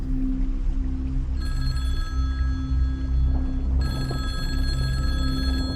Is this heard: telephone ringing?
yes